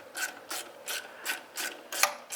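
A ratchet wrench clicks in quick repeated strokes, about seven bursts in steady rhythm, close up while a throttle body is removed from a Toyota MR2.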